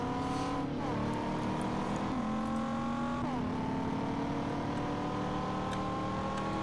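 A racing car in the video game Need For Speed San Andreas, running on GTA MTA, accelerates toward top speed. The engine note climbs steadily and drops at each gear shift, a continuous loud drone with faint talk beneath.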